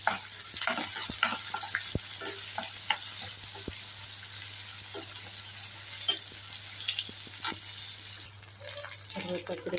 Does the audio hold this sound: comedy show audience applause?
no